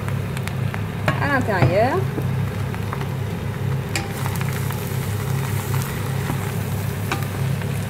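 Cooked aubergines slide from a pan into a dish with a brief soft scraping rush, followed by quieter kitchen rustle while someone speaks over it.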